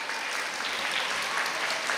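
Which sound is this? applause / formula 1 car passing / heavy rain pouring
applause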